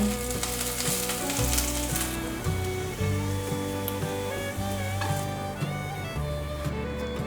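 Mushrooms sizzle and fry steadily in a pan with oil after ginger slices have been cooked and removed, a continuous close crackling hiss with faint stirring and music behind.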